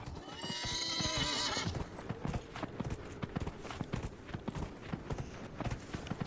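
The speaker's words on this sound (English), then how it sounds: "So now we're just going to go ahead and ride out back through the glades." In Dragon Age Inquisition, a horse gives a loud whinny, then its hooves clip-clop in a steady walking rhythm on the ground, close and clear.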